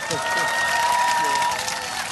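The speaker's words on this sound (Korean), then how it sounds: "큰 박수 부탁드리겠습니다" A talk-concert audience gives loud, steady applause welcoming Seoul Mayor Park Won-soon onto the stage, with dense clapping filling the whole moment and a few voices calling out underneath.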